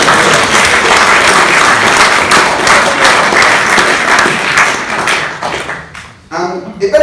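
Loud sustained applause from an audience at a political talk on Britain in Europe, dense steady clapping that fades away near the end as a voice returns.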